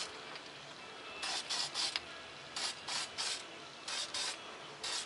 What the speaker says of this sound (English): I ain't gonna bother spraying the bottom.